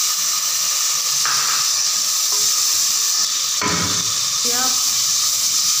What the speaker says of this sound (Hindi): ये देख लें अच्छी तरीके से इसे भून रही हूँ